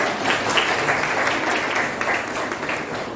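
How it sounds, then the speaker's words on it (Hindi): Steady applause from a crowd at a college welcome ceremony fills the whole stretch, dense overlapping clapping at an even level with no voices rising above it. "सो उनके लिए तालियां हो जाए पहले"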